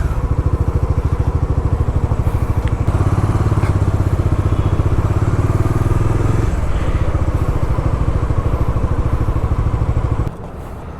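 A brand new KTM 390 Adventure motorcycle engine runs close by with a loud, steady, rapid thumping idle that holds evenly for about ten seconds before dropping off sharply.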